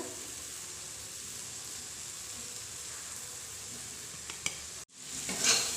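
Boiled, peeled potatoes are stirred into tomatoes in a hot pan, giving a steady, close sizzle and hiss with scraping stir sounds, a brief clunk and a short break before the frying resumes, with no voices.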